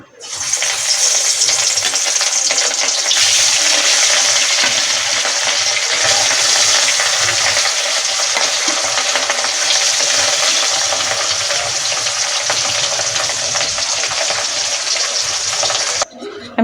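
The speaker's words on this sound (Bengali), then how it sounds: "আমার তেল গরম হয়ে গেছে আমি মাছগুলো এবার লাল লাল করে ভেজে নেব" Fish frying in hot oil in a wok for a fish curry with cauliflower and potato, a loud, continuous dense sizzle that holds steady throughout, close up with no talking.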